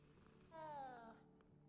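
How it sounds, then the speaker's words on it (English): A cat in the video game Hogwarts Legacy gives a single soft meow that rises and then falls, faint and short against a quiet background. "It's meowing at me!"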